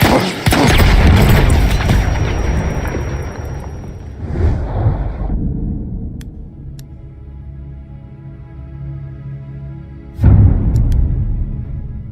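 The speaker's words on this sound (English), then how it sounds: "Grenade out! Look alive!" A grenade blast in a video game: a loud boom at the start that decays into a rumbling tail, then a second sharp explosion near the end, with no talk over it.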